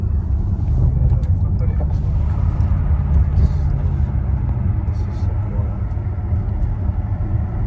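An Audi RS6 C7 with a cat-back exhaust gives a deep, steady engine rumble that is loud and close and holds throughout without sharp revs.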